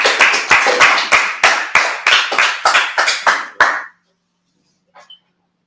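A gathering at a Feast of First Fruits service claps in steady unison, about ten sharp, evenly spaced claps close to the microphone. The clapping stops abruptly, leaving near silence with a faint brief sound.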